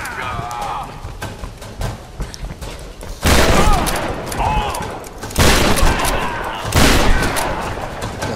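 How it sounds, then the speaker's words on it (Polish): Shotgun fire in the Tomb Raider game: three loud, booming blasts spaced a couple of seconds apart, each with a ringing tail, over quieter in-game ambience and clatter. "shotgun."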